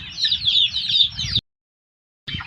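Chickens cluck and chatter busily up close for over a second, then silence, then the clucking briefly resumes.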